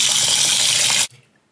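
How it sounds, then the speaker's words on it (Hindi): Rice being rinsed in water for a vegetable pulao, a loud, close splashing and sloshing rush that runs for about a second, then cuts off abruptly into near silence. "4 से 5 दफ़ा पानी से निकालना है।"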